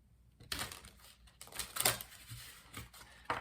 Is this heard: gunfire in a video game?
no